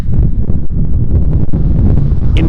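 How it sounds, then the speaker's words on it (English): Strong wind on Dartmoor at Princetown, during snow, buffets the microphone with a constant loud roaring rumble that dips now and then. No voice is heard. "I think you might be cutting up a little bit because of the wind"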